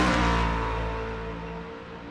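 A loud Ford Mustang GT3 race car engine at Laguna Seca, a deep steady roar that fades gradually as the car passes and pulls away, heard alone.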